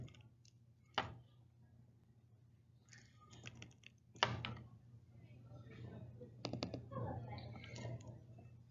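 Calculator keys being tapped to enter numbers for a law of sines problem, a few sharp clicks and short bursts of key presses, close and fairly quiet, with someone talking over them.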